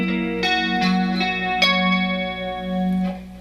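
An electric guitar plays a lick, a few plucked notes ringing out one after another with sustained tone, close and alone.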